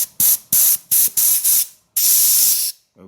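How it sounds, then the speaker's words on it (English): Compressed air sprays in short hissing bursts during diagnosis of an Audi/Volkswagen A/C system, five quick blasts followed by one longer continuous spray, loud and close with no talk. "Now what I'll do is take the compressed air."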